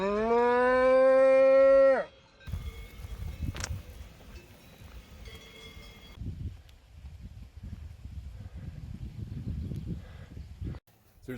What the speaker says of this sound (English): More cows.